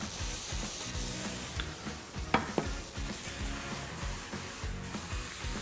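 Cabbage frying in oil with pepper and honey in a pan, a steady soft sizzle with a few sharp clinks of utensils against the pan partway through.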